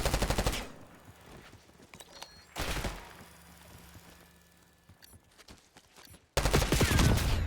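Rapid automatic gunfire in the shooter game Black Ops 6, three loud bursts separated by quieter stretches of footsteps and faint game noise, with the last burst kicking in hard at the end.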